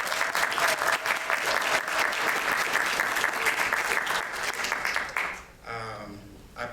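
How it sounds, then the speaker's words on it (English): Loud, sustained audience applause for a panel at an academic event, dense steady clapping that cuts off abruptly near the end. "I'd like for us to give a round of applause for the entire panel."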